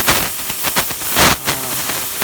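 Oxygen-LPG cutting torch slicing through steel plate, a loud, steady roaring hiss with rough, crackling texture, close by and continuous throughout, with no voices over it.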